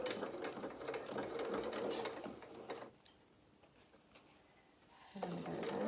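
A sewing machine stitches a seam on a pair of bloomers with a quiet rapid whir, stops for a couple of seconds, then starts up again, close but soft.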